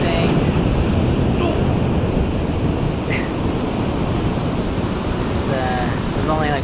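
Surf rolling in at Wildcat Beach, Point Reyes, a constant loud wash of breaking waves heavily mixed with wind buffeting the microphone, with brief faint bird-like chirps.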